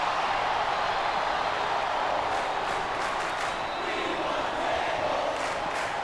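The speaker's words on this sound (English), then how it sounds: "I think this crowd's giving these superstars a piece of their minds, King." A large wrestling arena crowd shouts and roars in a sustained, dense wash of voices that stays loud and steady throughout.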